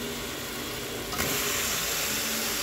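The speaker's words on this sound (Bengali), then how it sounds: "তো ভালো করে মশলাটাকে কষিয়ে নেব।" Spice masala sautéing in a pan for a vegetarian soybean and cauliflower dish, a close steady sizzle that grows louder and brighter partway through, as if stirred or moistened.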